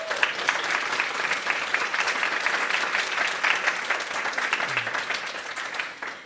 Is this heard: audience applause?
yes